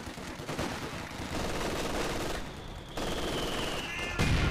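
Dense video game gunfire crackles in rapid, overlapping bursts alongside heavier booms of mortar rounds. A high whistling tone sweeps through midway and a loud blast lands near the end.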